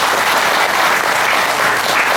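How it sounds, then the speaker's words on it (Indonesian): Audience applause at a spiritual teaching session on guru puja and guru yoga, a steady dense wash of clapping from many hands, close and loud, sustained throughout without any voices. "Tepuk tangan dulu."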